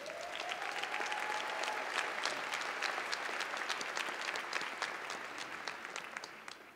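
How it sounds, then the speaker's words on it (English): Steady, dense applause from a large commencement audience at Wayne State University honors deans and senior administrators on the platform, sustained and even throughout before tapering slightly at the end. "Let's give them a round of applause."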